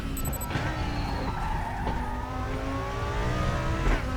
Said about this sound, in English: And now here we are at Watkins Glen on board the GT2.